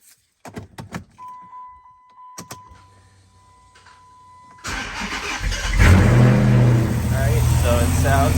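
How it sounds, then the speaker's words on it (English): A 5.7 HEMI V8, just back together after an exhaust manifold gasket and bolt replacement, is started: key clicks and a steady warning chime come first, then the starter cranks and the engine catches into a loud, rumbling idle. "So now I'm gonna start it up and check for any leaks around the joints."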